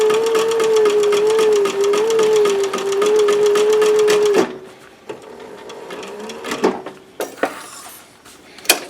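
A sewing machine runs a steady, fast stitch with upholstery thread on a cloth mask, humming with a whining motor tone for several seconds before stopping, followed by scattered handling clicks and knocks.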